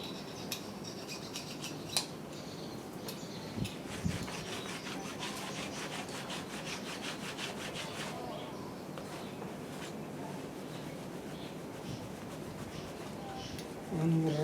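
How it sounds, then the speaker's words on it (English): A blade scrapes silicone off a metal surface on an Isuzu KB220, with repeated close rasping strokes that rub back and forth, a few sharp knocks mixed in. "You slide the blade over the metal to get the silicone"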